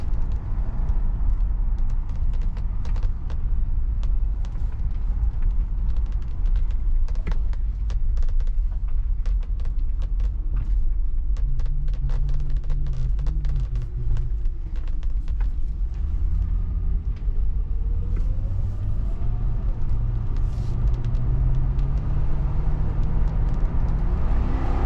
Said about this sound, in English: just doing a little test drive to see what it's going to be like